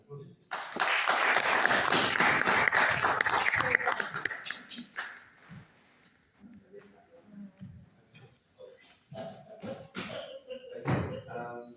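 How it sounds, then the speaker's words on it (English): Council chamber audience applauding at a full council meeting, a loud burst of clapping for about four seconds that fades into scattered thuds, shuffling and murmured talk. "Can you give Helen a round of applause?"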